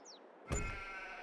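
A single sheep bleat from a sheep pen in Farming Simulator 22, a clear, wavering call that starts abruptly and trails off over about a second, with no talking.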